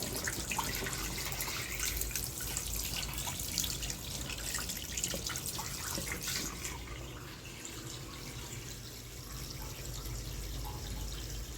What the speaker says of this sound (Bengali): তো সেজন্যই তো আগে বেসিনটা ক্লিন করে নিচ্ছি।